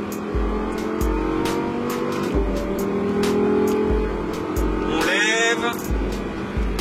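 An Audi R8 RWS accelerating hard on the Le Castellet circuit, heard from inside the cabin: a loud engine roar rising and dropping with quick repeated gear shifts and a brief dip near the end, with no talking.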